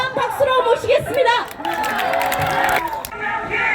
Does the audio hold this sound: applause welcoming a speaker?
yes